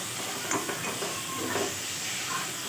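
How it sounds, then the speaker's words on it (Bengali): Neem leaves fry in a pan with aubergine, pumpkin and potato, giving a steady broadband sizzle with a few soft stirring scrapes, close and moderately loud, no voices. "নিম বেগুন কুমড়ো আলু সব একসঙ্গে একটুখানি নিম পাতা ভাজা হচ্ছে"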